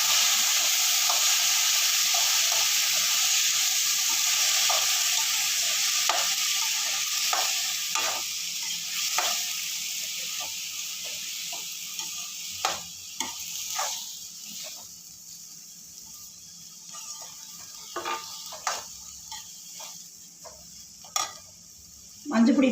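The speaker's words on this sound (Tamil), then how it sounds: "கொஞ்சம் வெங்காயம் வதங்கட்டும். தக்காளி பழத்தை போட்டுக்கிறேன்." Onion and tomato sauté and sizzle in a pan while being stirred for a Tamil brinjal kothsu, a steady close frying hiss broken by repeated scraping stirs that grow sparser toward the end.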